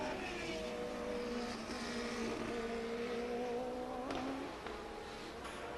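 Formula 1 cars from the 1981 season race on a drying track, engines whining at high pitch and sweeping in pitch as they pass, with a sharper car going by near the end.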